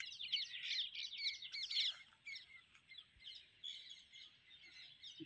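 Small birds chirp and twitter in a planted garden with new saplings, a steady run of bright calls that is busiest early on and continues more faintly and thinly to the end, with no talk.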